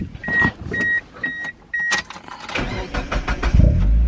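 A cheap Mazda Eunos left sitting for five years with a weak battery: four short electronic chimes, then the starter cranks and the engine catches and rumbles up close, loud and without speech.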